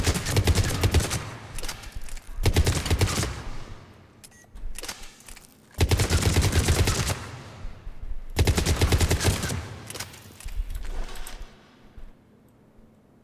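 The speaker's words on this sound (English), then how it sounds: "Firing in bursts." Cerberus Harrier rifle in Mass Effect 3 firing in loud bursts of rapid shots, with several separate volleys broken by short quiet gaps, close and with no voice.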